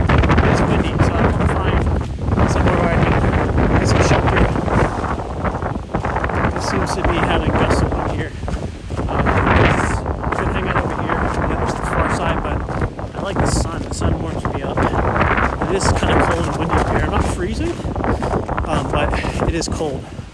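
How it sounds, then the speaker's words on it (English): Strong wind in the White Mountains buffets the microphone in loud, continuous gusts that rumble low and swell and dip throughout, with no clear talk above the roar. "It's windy, so I want to find somewhere where I can get some shelter."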